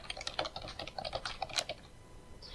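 Quick bursts of keystrokes on a computer keyboard while writing Java code in Eclipse, close and fairly quiet, with irregular clicks tumbling out for about two seconds before trailing off.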